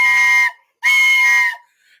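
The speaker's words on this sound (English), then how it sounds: "There's the victory whistle." A loud, shrill steam-style whistle sounds twice after a Steelers win over the Saints, a short blast followed by a longer one, near and piercing with silence between.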